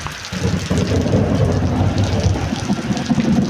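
Heavy rain pours down in a dense, continuous roar, close and loud, with deep rumbling underneath.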